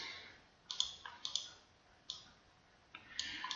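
Computer mouse clicks while an image is resized in a Word document: a few quiet, sharp clicks come singly and in close pairs, spaced irregularly across the short stretch of near silence.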